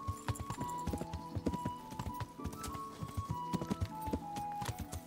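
Horse hooves clip-clopping at a steady trotting rhythm while riding in the video game Kingdom Come: Deliverance, close and clear, with a faint background hum and no talk.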